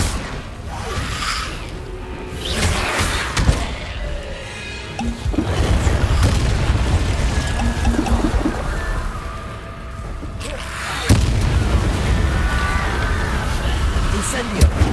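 Incendio fire spells cast over and over in a Harry Potter video game: loud bursting booms and fiery whooshes arrive in waves, with voices mixed in among the spell blasts.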